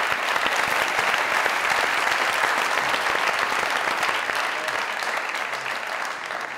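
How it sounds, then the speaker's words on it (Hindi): Loud studio audience applause on a Pakistani comedy talk show, a dense steady wash of clapping that holds evenly for several seconds before easing slightly at the end. "जोरदार ताली।"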